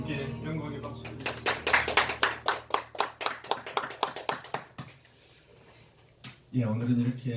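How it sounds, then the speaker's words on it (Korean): A church congregation at a small Presbyterian service claps in a quick, steady burst of rhythmic hand claps that stops abruptly, followed by quiet and then a voice. "주님께 영광의 박수 드립니다."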